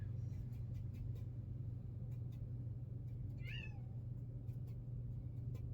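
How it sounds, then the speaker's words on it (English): A cat gives one short meow, a little distant, over a steady low rumbling hum in a quiet room. "Cat said, no, don't do it."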